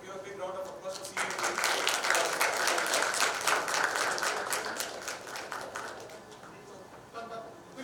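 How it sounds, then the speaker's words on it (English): An audience at a text analytics workshop during a summit breaks into loud, sustained applause that swells for several seconds and then gradually fades, with a voice speaking over it. "please give a big round of applause for CEA."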